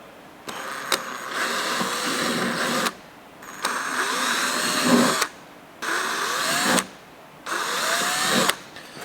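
A power drill with a very small bit runs in four steady bursts of a few seconds each, separated by short pauses, loud and close with no talking.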